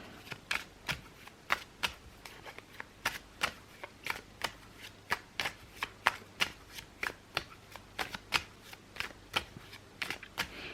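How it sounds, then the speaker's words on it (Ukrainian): A tarot deck is shuffled with a steady series of crisp riffling bursts, roughly two per second, close and fairly quiet, with no talking. "Зараз я повертаю, перетасую додаткову колоду."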